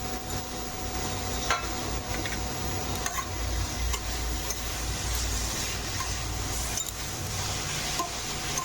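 Grated carrots for gajar halwa stirred in a pan, a steady close scraping and sizzling texture with occasional sharp utensil clicks throughout, no voices.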